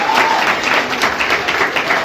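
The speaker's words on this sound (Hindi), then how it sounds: "एक बार जोरदार तालियां होनी चाहिए।" Loud applause from an audience at a school award ceremony honouring students after their results, with dense, continuous clapping close by and faint crowd voices mixed in.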